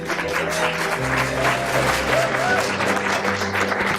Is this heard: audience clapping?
yes